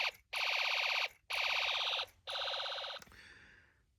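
Snap Circuits electronic kit sounding its machine gun tone: three loud, bright, rapidly pulsing bursts separated by short gaps, the last one cutting off and fading, close and alone with no voices.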